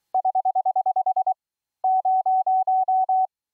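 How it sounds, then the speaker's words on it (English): Iambic paddle Morse code CW tones sent by a Raspberry Pi: a steady pure beep keyed as a fast run of about twelve short dits, a pause, then seven longer dahs, clean and loud with no other sound. "here is the Raspberry Pi transmitting iambic pedal CW tones"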